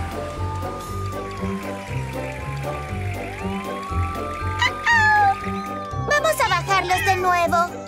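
A cartoon kitten up in a tree gives several high meows over music and speech, with splashy effects near the end, as a voice calls to it.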